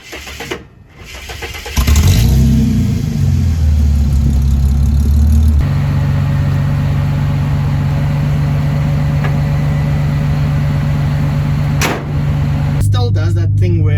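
A Ford AU Falcon, lifted for off-road use, cranks with a brief binding strain, catches and settles into a loud, steady idle up close, with a short gap in the engine note before it resumes.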